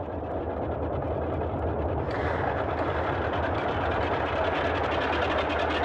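Simulated radial engine of a Boeing 247D idling at about 1000 RPM in MSFS 2020, a steady, continuous drone with a rhythmic throb that grows slightly brighter partway through, loud and alone with no talk.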